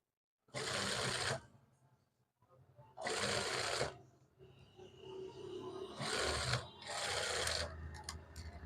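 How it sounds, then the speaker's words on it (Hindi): Sewing machine stitching a sleeve for a gents kameez, running in three or four loud, close bursts of rapid whirring with short pauses between them. "इसकी हम सिलाई लगा देते हैं दोस्तों।"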